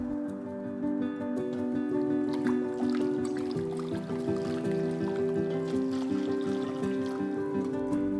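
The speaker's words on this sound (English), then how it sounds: "Pour the broth into the bowl." Broth for a coconut chili vegetarian ramen pours in a steady trickling stream into a bowl, close and continuous with a soft liquid splash throughout.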